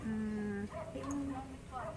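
A dog whimpers close by in several drawn-out, high whining tones, with short pauses between the cries.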